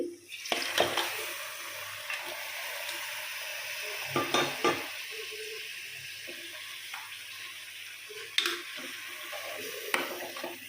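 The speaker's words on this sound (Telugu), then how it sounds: "కరివేపాకు ఇది శుభ్రంగా కడిగేసుకున్నాను ఇది ఇప్పుడు వేస్తానండి" Washed curry leaves hit hot oil in a pan for goat head curry, a steady sizzle with sharp bursts of spitting and a few clinks of a stirring spoon against the pan.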